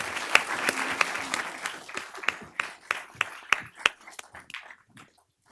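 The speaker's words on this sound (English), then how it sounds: "Give them another round of applause." Applause from a small audience at a school board meeting, individual claps distinct and sharp, thinning out to scattered last claps before fading into silence.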